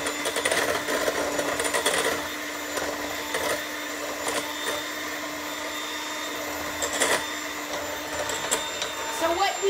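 An electric mixer creams butter with monk fruit sweetener, whirring steadily at moderate volume with faint rhythmic pulsing and occasional clatter of the beaters in the bowl; a voice speaks over it.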